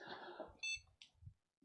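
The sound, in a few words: computer POST beep on startup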